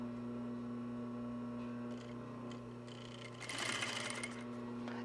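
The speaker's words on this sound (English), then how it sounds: "I'm going to sew along one of the edges" A sewing machine stitches along the edge of a shoulder bag, running with a steady mechanical hum and a brief louder, faster burst near the end, with no talking.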